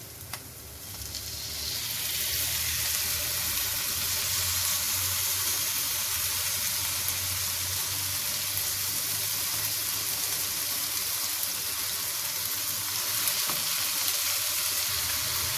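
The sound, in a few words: marinated chicken added to softened onions frying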